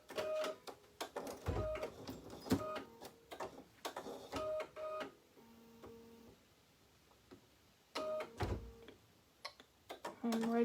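An embroidery machine stitches out a placement line in orange Isacord thread, its rapid mechanical ticking coming in bursts with pauses between them, close by and alone.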